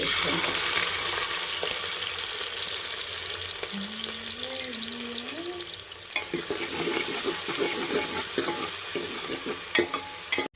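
Chopped onions fry in oil and ghee, a loud, continuous close sizzle with repeated stirring scrapes, and a brief tonal squeak partway through.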